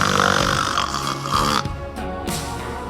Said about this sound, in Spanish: Ronca.